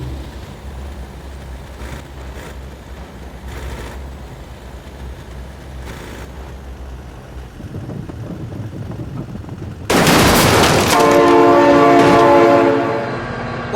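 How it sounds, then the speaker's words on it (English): In the BeamNG driving game, a low rumble builds as a train approaches, then a loud, sustained multi-tone horn blares close by for several seconds over the roar of the passing train. "Oh my god, train!"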